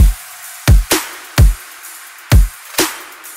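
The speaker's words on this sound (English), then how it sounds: "All the drums and effects together should sound like." A future bass drum and effects loop: punchy, booming kicks and sharp snare-like hits over an airy swept noise bed, loud and alone, in a syncopated pattern.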